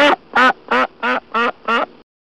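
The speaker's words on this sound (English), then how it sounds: "Duck." A duck quacks six times in a steady, evenly spaced run, each quack loud, nasal and close, then silence.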